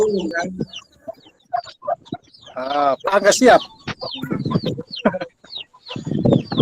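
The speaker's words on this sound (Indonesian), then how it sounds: "hanya dengar suara anak ayam aja." Chicks cheep faintly in the background of an online meeting call, their high peeps mixed under several people talking over the line.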